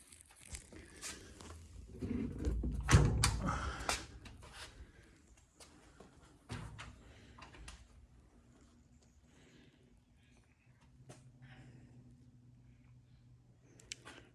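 The latched door of a homemade generator enclosure being opened or closed, with a cluster of knocks and scraping rattles, then a single firmer thud, followed by quieter handling noise and a low steady hum.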